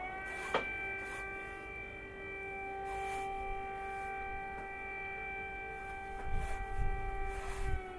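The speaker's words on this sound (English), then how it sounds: "They were definitely woken up by this siren." An air raid siren sounds at night in Ukraine, a faint, distant, steady drone that holds its pitch throughout, with a few soft scraping noises close by.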